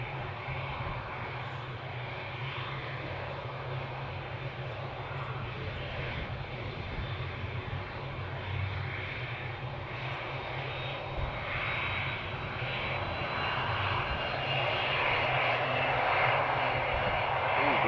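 Turkish Airlines Boeing 787 Dreamliner bound for Istanbul at Amsterdam Schiphol, its jet engines producing a loud, continuous roar that holds steady and swells slightly toward the end, with no talk over it.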